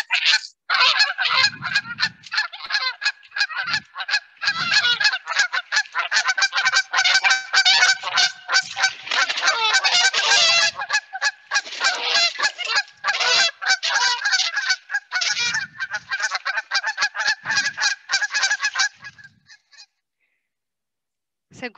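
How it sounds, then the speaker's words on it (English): Recorded calls of Canada geese at a wetland, a long run of loud nasal honks in rapid overlapping bursts, like a flock calling together, before they fall silent near the end. "And I can play another sound of those Canada geese for you too."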